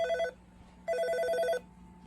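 An IP intercom phone rings after extension 21 is dialled. A short electronic ring burst is followed by a pause, then a longer ring. The tone is clear and close and plays alone, with no voices.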